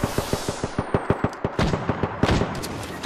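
Rapid single-fire gunshots in Apex Legends, a steady run of about a dozen sharp evenly spaced shots, close and loud, followed by denser overlapping gunfire and impacts toward the end.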